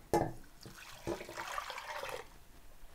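Vegetable broth is poured into a soup pot of lentil soup in a short, faint splashing gush of liquid lasting a couple of seconds after a brief clink.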